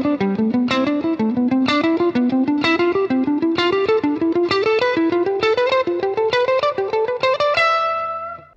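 A distorted electric guitar plays a fast ascending scale of evenly picked notes, climbing steadily in pitch and ending on a ringing high note.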